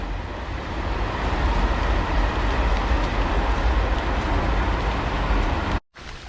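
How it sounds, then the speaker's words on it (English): A train rumbling by overhead on a rainy day along the Camino Portuguese, a loud, steady low roar that continues for several seconds before cutting out abruptly near the end. "You can hear the train going above."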